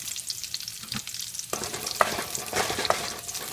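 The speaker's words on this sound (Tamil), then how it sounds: "இப்போது கருவேப்பிலை போட்டுக்கலாம் வரமிளகாய்" Curry leaves and dried red chillies sizzle loudly in hot oil for Erode Pallipalayam chicken, a steady frying hiss that swells sharply about halfway through as more goes into the pan, with crackling pops and no talk.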